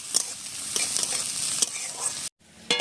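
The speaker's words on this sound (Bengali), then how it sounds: "আগে ভেজে নিচ্ছি লাল লাল করে একটু আর একটু সামান্য একটু করে জিরে দিয়ে দিচ্ছি" Sliced onion sizzles in hot oil with a pinch of cumin seeds, a close, steady frying hiss broken by sharp scraping clicks of a spatula stirring the pan, briefly cutting out near the end.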